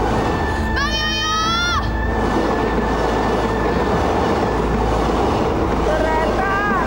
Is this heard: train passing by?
yes